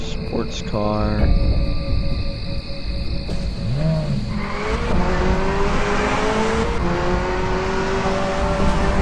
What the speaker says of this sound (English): Sports car.